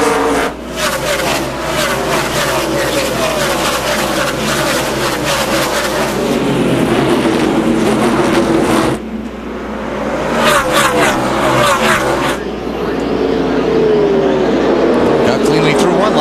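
NASCAR stock cars roar loudly at the start of the 2004 Subway 500, engines revving and surging in waves as the pack thunders past, with commentators talking over the race.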